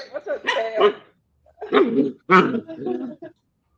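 A dog barks and yelps in several loud, close bursts split by short silences, the calls harsh and broken rather than evenly spaced.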